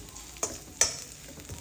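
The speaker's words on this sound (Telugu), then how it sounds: "దీన్ని మిక్స్ చేద్దాం, లేదంటే మళ్ళీ మాడిపోతుంది." Makhana tossed with chaat masala and mint in a hot pan, stirred with a few soft scrapes and clatters over a faint sizzle, quiet and close, with no talk.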